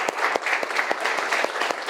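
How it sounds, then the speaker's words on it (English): A group of people clapping together in an indoor session, dense steady applause with sharp hand-claps throughout, loud and close, no talking. "So can I have a clap for yourself, everybody?"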